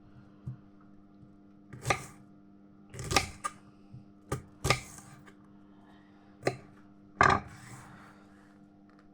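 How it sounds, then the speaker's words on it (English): Knife chopping an onion on a board for a chickpea curry, a handful of sharp irregular knocks with pauses between, fairly close and moderately quiet over faint kitchen hum. "Onion chopped."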